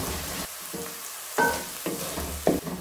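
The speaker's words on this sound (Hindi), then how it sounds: "अब हम इसमें डालेंगे लहसुन अदरक का पेस्ट। इसको भी प्याज के साथ 1 से 2 मिनट फ्राई करेंगे" Garlic ginger paste fries with onion in a pan for dal chana, an uneven sizzle that dips quiet and flares back as a spoon stirs and scrapes, with a few sharp clinks.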